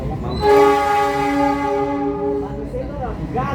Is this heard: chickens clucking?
no